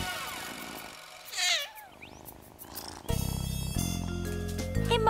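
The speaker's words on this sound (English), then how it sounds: "It's a kitten." A cartoon kitten stuck up high on the Big Barn Farm gives a few short, high meows near the start, followed by music and other cartoon sounds.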